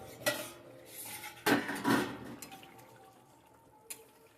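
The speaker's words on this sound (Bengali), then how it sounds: "10 হয়ে গেছে, আমি চাপাটা খুলছি।" A lid lifted off a cooking pan with metallic clanks and a scrape, followed by quieter rattles and a faint bubbling simmer, then one last light clink.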